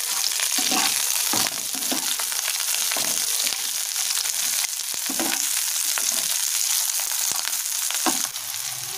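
Capsicum stir-fries in a hot pan with whole garam masala, a loud continuous sizzle broken by regular scraping and knocking stirs throughout, near and without speech.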